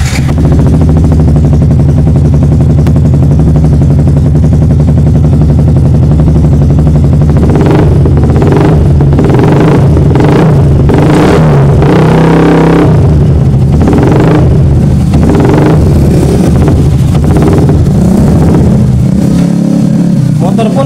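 A Yamaha R15 motorcycle with an over-voltage charging fault is started and revved in a workshop. A loud steady idle is followed by repeated throttle bursts before the engine falters, with someone talking over it.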